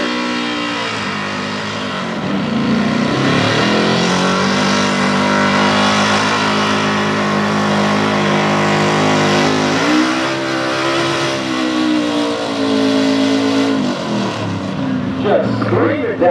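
A loud Pro Stock 4x4 pulling truck engine roars steadily down the track, its pitch climbing and shifting as it screams along, with a brief dip near the end.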